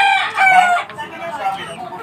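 Fighting cocks crowing in their pens, a loud nearby rooster call with clucking from the other caged birds around it.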